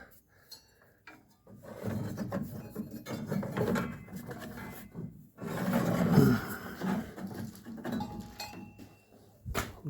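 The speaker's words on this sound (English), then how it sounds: "let's get that belt off" Drive belt being worked off the alternator pulley of a 1968 Camaro, heard as scraping, rubbing rubber and light metallic clinks in irregular bursts, close and moderately quiet, with short pauses between efforts.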